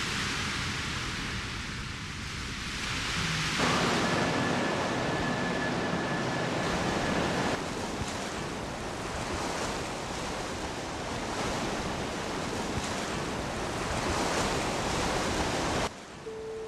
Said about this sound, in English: listen to the music of the waves